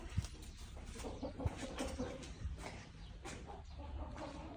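Free-roaming roosters and chickens on a farm cluck and call at a distance under steady outdoor noise, a few faint sharp calls rising now and then.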